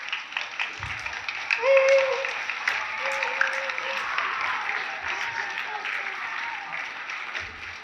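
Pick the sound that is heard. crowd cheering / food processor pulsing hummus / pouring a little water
crowd cheering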